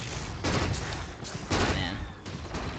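In the Dota 2 video game, Gyrocopter's Flak Cannon fires in repeated bursts of rapid, crackling shots under loud game effects, with a commentator talking over the action.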